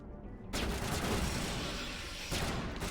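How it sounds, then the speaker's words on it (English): Gunfire in Mass Effect Legendary Edition: after a quieter opening, a dense, sustained burst of rapid shots kicks in and rattles on without letup, with a fresh surge near the end. "shoot you in the face"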